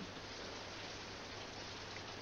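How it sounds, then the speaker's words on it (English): Soft, continuous hiss of steady rain, faint and even with no distinct drops standing out and no talking. "It's raining."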